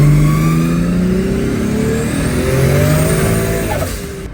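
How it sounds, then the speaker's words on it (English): An AWD 2JZ-powered car switched into two-wheel drive revs hard as its wheels spin. The engine note climbs and holds steadily, heard loud and close from inside the cabin. "if I hit it, you'll hear the car spin."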